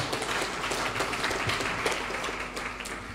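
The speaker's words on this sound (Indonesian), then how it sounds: "Tepuk tangan saya." Audience applause at the close of a seminar talk during a national dialogue forum on radicalism, corruption and Pancasila at UIN Sunan Kalijaga, Yogyakarta, a steady wash of hand claps held at an even, moderate level throughout.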